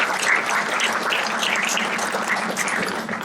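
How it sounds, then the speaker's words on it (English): An audience claps steadily at a Kentucky governor's grant award event for Northern Kentucky riverfront projects, a dense, even applause sustained throughout with no speech over it. "Let's give a round of applause to Dayton."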